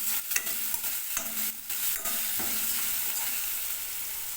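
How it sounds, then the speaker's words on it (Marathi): Garlic stirred into browned onions frying in a pan for a Katla fish curry: a steady, close sizzle broken by scraping stirring strokes, with no talking. "लसूण ॲड करूया आणि त्याला जरा हलवून घेऊ."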